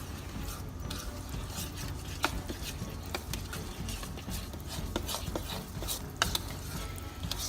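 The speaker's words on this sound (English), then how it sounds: "Now I'm going to stir it up." A spoon stirring cornmeal batter mixed with mayonnaise, a soft continuous scraping and sloshing with small clicks against the bowl, close and steady, with no talking.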